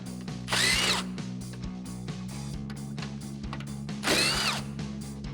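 Power tool spinning out the 10mm bolts on top of a 2005-2015 Toyota Tacoma stock headlight, two short high whirring bursts over a constant background hum, close and fairly loud.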